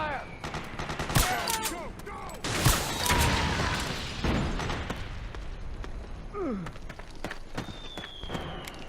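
Sustained suppressing gunfire in Metal Gear Solid 4, rapid bursts and single shots rattling amid explosions and movement, loud and close, with shouting voices between.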